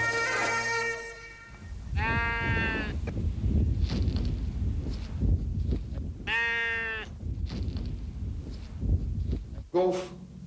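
Sheep grazing on the Scottish east coast bleat several times in loud, wavering calls spaced a few seconds apart, close by, with rustling and footsteps between calls and a final short bleat at the end.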